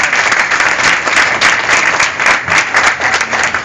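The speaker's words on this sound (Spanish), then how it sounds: "Vamos a brindarle un fuerte aplauso." Loud, dense applause from a crowd at a municipal gathering in Acatlán, continuous and close with rapid overlapping claps pulsing slightly in intensity.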